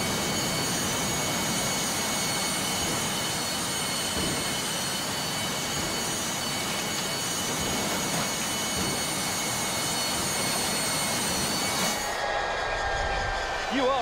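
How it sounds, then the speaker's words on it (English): A large engine roars loudly and steadily with a whining drone, then the sound shifts abruptly near the end. "That's going to drive air into the big engine."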